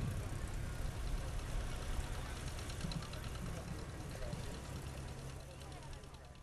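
An antique Oliver tractor engine running at a threshing show, a steady low mechanical rumble and chug heard at moderate distance, with someone talking over it.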